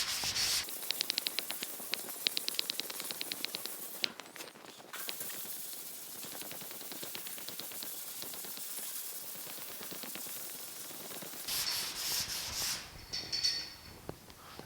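A sanding block is drawn in long, even strokes across the guide-coated door of a 1950 Chevy truck, a steady close rasping with rapid rhythmic scratches, briefly louder near the end.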